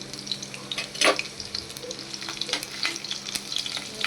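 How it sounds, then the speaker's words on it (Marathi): Garlic and curry leaves crackle in hot oil, a busy close sizzle full of quick pops and spits, with one stronger burst of spattering early on. "लसूण आणि कढीपत्ता टाकला."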